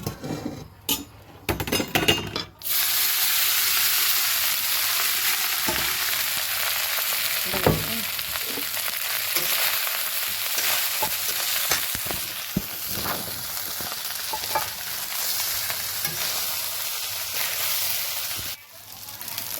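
Leftover cold rice fries in oil with salt and turmeric, a steady close sizzle running from about the third second to near the end, broken by scattered clinks and scrapes of a utensil against the pan.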